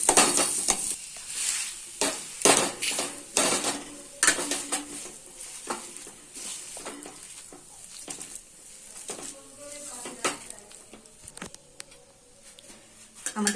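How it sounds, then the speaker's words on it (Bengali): Boiled potatoes being mashed with a spatula in a pan for a masala dosa filling, giving irregular scraping, pressing and clanking strokes against the metal, fairly close and moderately loud, with no talk. "তারপর এটা আমরা ভালো করে আলুটাকে ম্যাশ করে দেবো"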